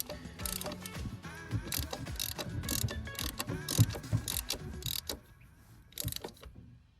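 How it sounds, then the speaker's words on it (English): A ratchet winds bolts into the plastic thermostat housing of a Ford Fiesta. It gives rapid, repeated clicking bursts close up with brief pauses between strokes, and no one speaks. "we're just winding the bolts in here, as you can see."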